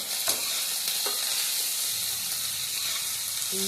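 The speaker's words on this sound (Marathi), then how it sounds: "थोडा वेळ तेलावर भाजून घ्यायचं" Green chili and ginger-garlic paste fry in hot oil over sautéed onion and tomato, giving a loud, constant close hiss of sizzling with a few faint stirring taps.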